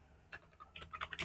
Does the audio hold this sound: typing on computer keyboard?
yes